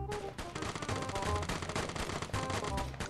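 Rapid automatic gunfire rattles almost without pause through a shootout in the video game Vigor. The shots come close and loud in dense bursts, with occasional heavier booms mixed in.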